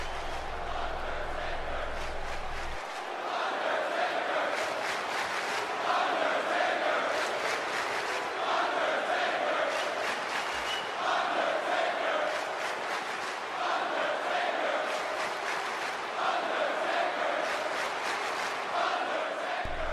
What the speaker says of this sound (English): this crowd, they're still going wild for The Undertaker